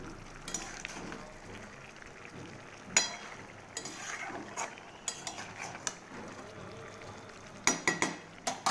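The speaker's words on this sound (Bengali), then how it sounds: "এই লাউয়ের সঙ্গে চিংড়ি মাছগুলোও কষানো হতে থাকবে।" Prawns and bottle gourd sauté in a pan, with a soft sizzle under scattered clinks and scrapes of a utensil against the pan; a voice talks over the cooking.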